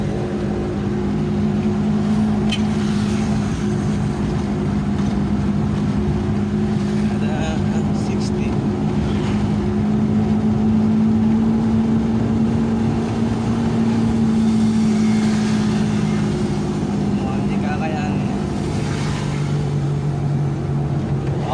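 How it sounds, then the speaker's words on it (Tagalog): Suzuki Multicab driving flat out at top speed on a road shared with traffic, a steady loud engine drone with wind and road noise throughout, holding a constant pitch. "kunin natin ang top speed ng ating Suzuki Multicab kung kakayanin sa maraming sasakyan"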